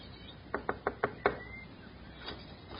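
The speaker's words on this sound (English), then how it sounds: "he made his way up to the front door of the shack and knocked" Five quick knocks strike the front door of a shack in an old-time radio drama, crisp and evenly spaced, followed by a faint sixth tap.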